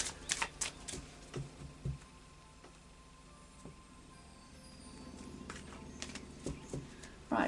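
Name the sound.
shuffling oracle cards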